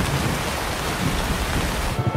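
Steady heavy rain pours down with a low rumble of thunder beneath it, a dense close hiss of falling water that fills the short moment without any voices.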